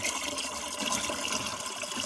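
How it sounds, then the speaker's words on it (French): River water poured into a sprayer tank up to 15 litres, a steady rushing splash of liquid filling a container, continuous and close with no talk. "Il faut ajouter le reste de l'eau là, jusqu'au niveau 15 litres là"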